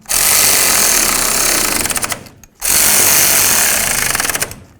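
A power tool rattles loudly and close while tightening tie rod clamps on a 1999-2007 Ford F250, two sustained rapid hammering bursts separated by a brief pause.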